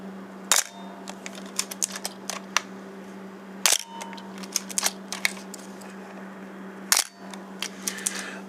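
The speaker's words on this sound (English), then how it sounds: "I clicked those three shutter actuations" A Canon F-1 film camera fires three sharp, distinct shutter clicks spaced a few seconds apart, held close, with small mechanical handling ticks and rustles between them over a low steady hum.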